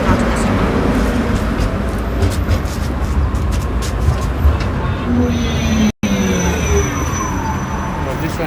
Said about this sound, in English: This looks like a more advanced train. The other one is like a trolley.